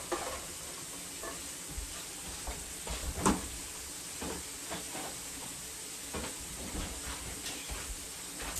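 Steady close sizzling of food sauteing in a pan with oil for homemade chili, with occasional stirring scrapes and a brief louder crackle midway; no talking.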